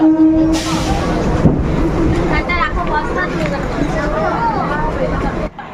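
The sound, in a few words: train running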